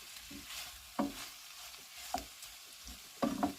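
Onion, garlic, ginger, black pepper and soy sauce stir-fried in a pan, with a low steady sizzle broken by several sharp scrapes and tosses of a utensil, close and fairly quiet.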